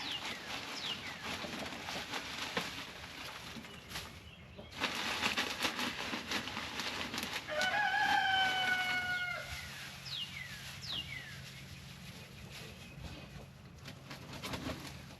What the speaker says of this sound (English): I had a hen sitting on the nest in there.